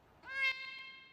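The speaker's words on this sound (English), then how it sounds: "You heard the cat." A cat gives a single faint meow, a short rising then sustained tonal cry under a quiet background, picked up through a livestream setup with an echo problem.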